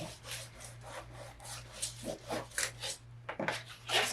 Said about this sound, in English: And we are going to burnish.